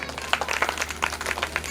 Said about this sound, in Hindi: एक बार ताली बजा दें इसके लिए।